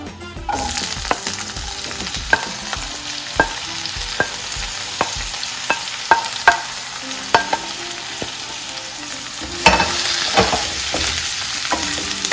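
Chopped onions sizzling in a pan for Kerala-style egg roast, stirred with regular sharp scrapes and clinks of the spoon over a continuous fry hiss, close and fairly loud.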